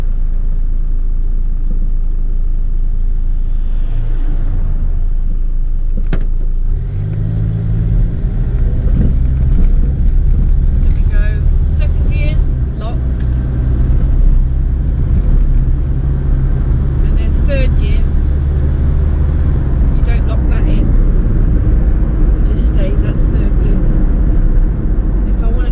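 Rover P6 2000 automatic held in first gear, its engine rumbling loud and steady with a low drone that rises in pitch after the first few seconds, while someone talks over it.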